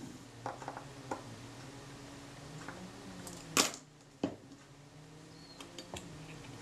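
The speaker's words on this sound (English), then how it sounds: "And I'm going to do up those 3 screws." Three small screws being tightened on a Kodak Retina I type 118 camera make faint, sparse clicks and light metallic taps, with one sharper knock midway, in a quiet room.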